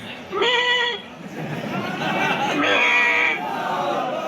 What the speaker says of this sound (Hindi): ये मिनानी बकरी है